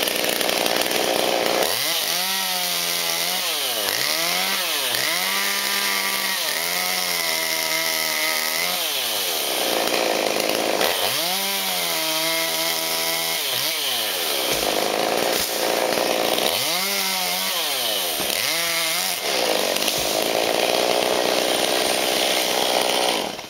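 A chainsaw cuts a tree limb into pieces, its engine loud and close, rising into bursts of full revving for each cut and dropping back to idle between them in three main passes.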